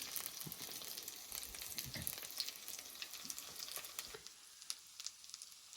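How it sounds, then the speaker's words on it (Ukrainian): Quiet, steady sizzling and crackling of liver and vegetable fritters frying in a pan over medium heat, with small pops scattered throughout. "на середньому вогні просмажуємо олапки з обох сторін"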